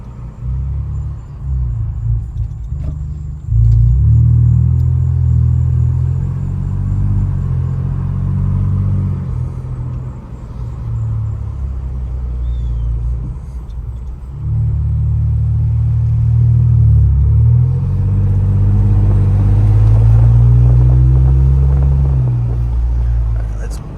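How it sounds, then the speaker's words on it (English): Deep, steady exhaust rumble from a Ford Bronco 2.7L fitted with a Flowmaster FlowFX exhaust, loud and close, swelling as the engine is revved and eased off across the stretch. "It's crazy sounding."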